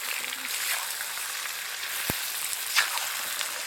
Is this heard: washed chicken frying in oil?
yes